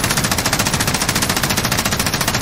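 A thermal LMG fires a loud, continuous, rapid burst at close range in Call of Duty Warzone, with steady evenly spaced shots and no pause.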